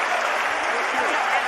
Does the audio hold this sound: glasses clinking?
no